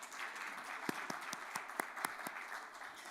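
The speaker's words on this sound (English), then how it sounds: "Can we clap hands to that?" Scattered applause from a small audience, with a few distinct claps standing out against a soft, steady patter.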